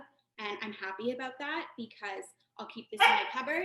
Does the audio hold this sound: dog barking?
yes